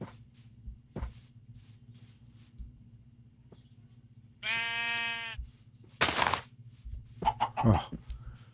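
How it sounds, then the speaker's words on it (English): Sheep in the Minecraft video game, one clear drawn-out bleat in the foreground over low steady background music, followed by short sharp thuds and clicks. "Sheep."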